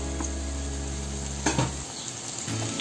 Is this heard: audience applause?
no